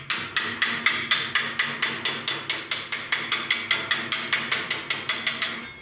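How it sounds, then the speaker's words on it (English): Steady metallic hammering on a 1969 Chevrolet C10 front fender, hammer against a pipe used as a dolly, about twenty sharp ringing blows in an even, quick rhythm, close and loud with no talking. "I'm gonna hammer and dolly that out"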